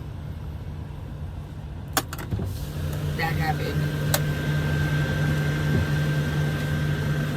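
A noisy truck passes outside, its low engine rumble building and holding steady under close-up talking, with a couple of sharp clicks nearby.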